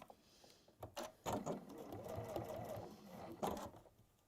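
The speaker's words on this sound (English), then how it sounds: "we're managing to sew along there absolutely fine" Sewing machine stitching fabric in quiet bursts of rapid mechanical whirring, starting and stopping several times, close and faint.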